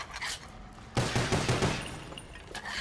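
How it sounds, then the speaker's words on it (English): Gunfire from a Black Ops Zombies match as barrels in the Nacht Der Untoten starting room are shot, a loud dense burst of rapid shots starting about a second in and tapering off. "Let's shoot all these barrels."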